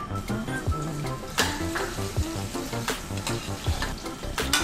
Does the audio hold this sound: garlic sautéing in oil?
yes